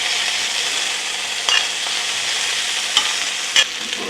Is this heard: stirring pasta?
yes